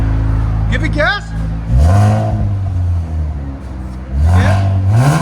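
Infiniti Q60 3.0L twin turbo V6 with aftermarket exhaust, valves closed, rising twice in two loud, sharp revs from idle with a deep swelling roar, voices talking nearby.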